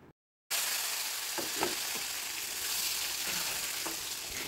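Boiled elephant foot yam pieces fry in spiced oil with salt and turmeric, a dense, steady sizzle starting abruptly after a moment of silence, with a few soft knocks of stirring.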